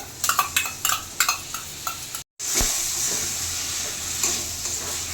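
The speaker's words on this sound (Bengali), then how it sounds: "এখন এই ফেটিয়ে রাখা টক দইটা দিয়ে দেবো।" Beaten sour yogurt goes into spiced chana masala in a pan. A run of quick, close scraping stirs is followed by a steady hissing sizzle as it hits the heat.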